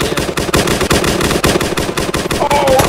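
Rapid, loud bursts of automatic gunfire fill a shooter video game, with the shots packed closely together in a dense, continuous rattle.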